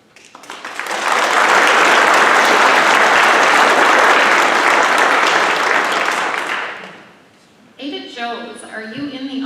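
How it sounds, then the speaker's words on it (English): A crowd at an annual meeting breaks into loud, sustained applause that lasts several seconds before fading out, after which a voice begins talking. "as we give you all a round of applause"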